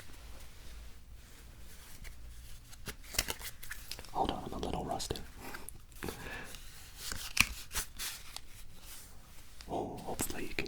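Playing cards are shuffled at a blackjack table in quick riffling bursts, with a person talking briefly over the soft flapping and clicking.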